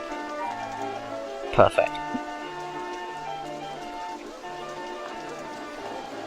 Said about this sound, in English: Maybe because it's raining.